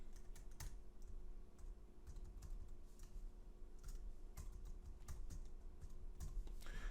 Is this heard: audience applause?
no